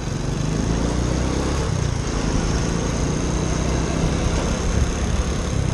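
A Ducati Scrambler 800 motorcycle engine runs steadily, a loud continuous droning rumble recorded up close with no change in pace and no voices.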